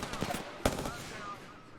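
Faint gunfire in a shooter video game, a few quick cracks and one sharper shot near the middle, set against low background noise.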